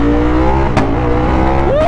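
Ducati V4S motorcycle with R fairing, 215 hp, idling loud and close with a steady engine hum and a quick blip near the end as the pitch rises.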